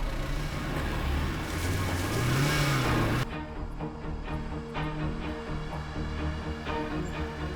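A car's engine runs loud and close with a rising rev, then drops to a steadier, quieter idle-like rumble as the vehicle is driven inside at a location.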